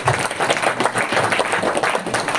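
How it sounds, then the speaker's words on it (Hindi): Audience applause, a short burst of dense, lively clapping from a group of people, steady and close throughout. "चलो जिन्होंने लिया उनके लिए तालियां बजाइए"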